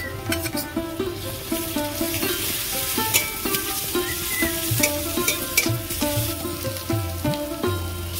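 Garlic paste fries in a pan on a rainy-day kitchen stove for banana flower chops, giving a close, steady sizzle broken by frequent rhythmic scrapes and knocks of a spoon stirring against the metal.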